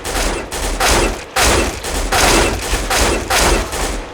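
Rifle fire in Counter-Strike, AK47-type weapon shooting in repeated short bursts of rapid rounds separated by brief pauses, loud and punchy with no talk.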